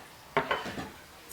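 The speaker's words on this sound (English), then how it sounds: "I'm just going to chop this up and show you what I'm going to do with the aloe vera" Knife cutting through a fresh aloe vera plant leaf, giving two sharp close taps on a hard board followed by a softer scrape, then near quiet.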